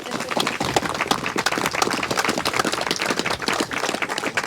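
A crowd at a canal bridge opening ceremony on the Chesterfield Canal applauds, a dense, continuous round of clapping close by that holds steady throughout without speech.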